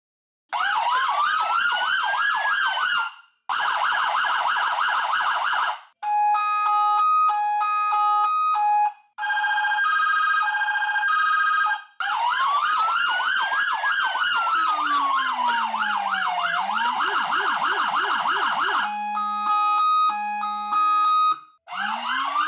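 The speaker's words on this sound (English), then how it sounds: "There is a howler behind the bumper, which is your low tone, your low frequency siren." Emergency vehicle siren system with Code 3 speakers and a bumper-mounted howler, cycling loudly through wail, yelp, hi-lo and other tones in bursts, with a deep low-frequency howler sweep joining partway.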